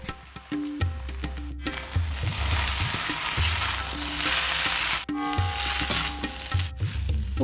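Chicken noodles and fried chicken being stir-fried in a pan over high flame, loud continuous sizzling with rhythmic clanking and scraping of the utensil, interrupted by a couple of brief pauses, with no voices.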